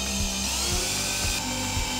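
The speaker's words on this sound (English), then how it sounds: "Screw Eve Energy Outlet into the wall." A power driver turns a screw to fix a smart outlet into a wall box, giving a steady whirring drone with rhythmic pulses about every half second, close and loud with no talk.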